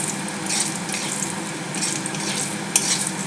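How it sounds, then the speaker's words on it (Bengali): Cashew nuts fry in a mix of ghee and white oil, giving a steady, close hiss and sizzle with faint crackles throughout. "ঘি আর সাদা তেলের ভিতরে আমি কাজু বাদামটিকে সামান্য একটু লাল করে নেব।"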